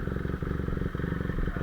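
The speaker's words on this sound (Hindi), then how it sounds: "सो फटाफट से रेव करते हैं और चलते हैं" A superbike's engine revs after a cold start, with warm-up temperature at 41, producing a close, steady, loud run of rhythmic engine pulses with light mechanical clatter over its full length.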